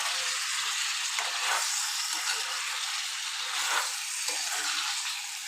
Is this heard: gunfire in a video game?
no